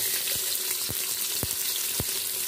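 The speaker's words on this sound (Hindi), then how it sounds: "प्याज को हम फ्राई होने देंगे।" Oil sizzles steadily with a broad hiss as onions fry for aloo gosht salan, punctuated by a few soft low thumps of stirring at regular intervals.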